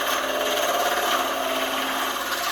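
A drill bores into a wooden pen blank on a wood lathe at about 1,000 RPM, a steady whirring, rasping grind that holds even and close for the entire moment.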